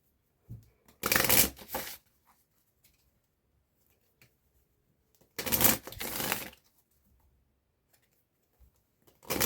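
A tarot card deck being shuffled in two separate bursts, crisp riffling flutters lasting about a second each, close and clear against near silence with a few faint handling clicks between.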